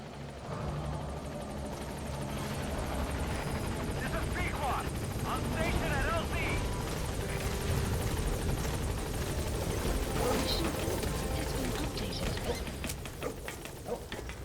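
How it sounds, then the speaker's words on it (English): A helicopter in Metal Gear Solid V: The Phantom Pain on PS3 keeps up a steady rotor drone for the whole stretch, loud and close, mixed with game sounds and faint passing noises. "we'll just wait for the chopper and hope for the best"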